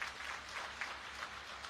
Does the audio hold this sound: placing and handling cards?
no